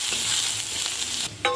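Turmeric powder being stirred into a sizzling spice tempering in a pan for a green amaranth and lentil dish: steady close frying hiss with light scraping stirs, ending in a brief clatter.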